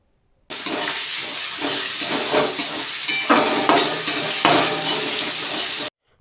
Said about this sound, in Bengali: পেঁয়াজ ভাজতে ভাজতে দিয়ে দিতে হবে কুচিয়ে রাখা টমেটো।